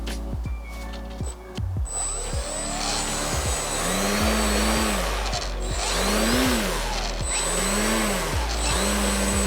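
A small electric motor on an RC plane, flying with a reglued motor after a crash, whines steadily and loudly throughout, the pitch rising and falling in repeated swoops as the plane passes.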